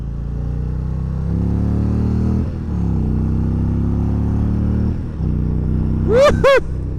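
An Indian Roadmaster Dark Horse motorcycle engine rumbles up close with a low, steady idle and repeated throttle blips that rise and settle, then closes with a sharp, rising rev near the end.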